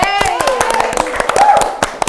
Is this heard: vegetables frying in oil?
no